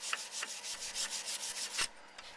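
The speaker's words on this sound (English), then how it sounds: "Now what I do is I take a wire brush, kind of just clean it up a little bit" Wire brush scrubbing a stainless TIG weld bead in quick back-and-forth strokes, a close, dry rasping scratch repeated about eight times, then a pause with one faint stroke.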